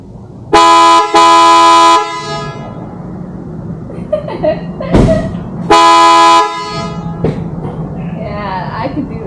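A PIAA Super Bass Horn fitted to a 2019+ Mercedes Sprinter van blasts loud and close, two quick honks followed by a longer held one, with brief voices in between.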